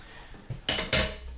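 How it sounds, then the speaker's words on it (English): Metal camping stove pots and a pan clatter as they are nested together, two sharp close clanks after a soft knock, with no talking. "you place the pots in the stove like that, and the pan as a lid above"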